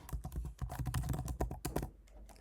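Quick, close typing on a MacBook keyboard as a password is entered, a dense run of crisp key clicks for about two seconds before stopping.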